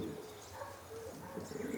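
Pigeons cooing nearby, with soft low coos and faint chirps repeating over steady background noise.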